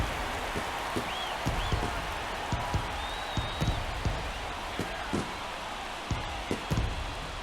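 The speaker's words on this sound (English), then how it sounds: "That fires up the home crowd, and they inch closer." Home crowd at Kansas City in MLB The Show 23 cheers after a home run, a steady wash of stadium noise with scattered sharp clicks and claps, moderately loud, with no talk.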